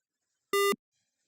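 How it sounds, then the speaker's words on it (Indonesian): A single short, soft electronic buzzer tone from a simulated ESP32 fire alarm, a clean pure beep lasting about a quarter second amid silence. "Oh, buzzernya berbunyi pelan, LED-nya berkedip."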